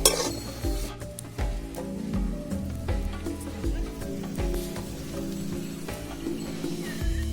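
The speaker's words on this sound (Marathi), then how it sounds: "तर बघा मस्त असा आपला सोयाबीन वडा परतून राहिला" Soybean vadas are stirred and sautéed in a pan, with repeated scraping strokes of a spatula against the metal over a soft background sizzle, fairly close.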